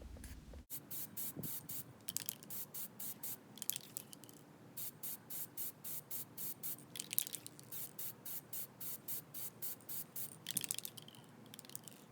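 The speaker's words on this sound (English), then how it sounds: "make sure that the spray can is about 8 to 16 inches away and go in a left and right motion" Spray can paint sprayed onto a miniature in a series of short, rhythmic hissing bursts from close by, repeated steadily as the can sweeps left and right.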